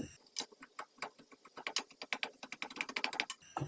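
A stock cube is crushed in a saucepan of water, giving a quick, uneven run of sharp clicking taps that grows denser toward the end, close and fairly quiet with no talking.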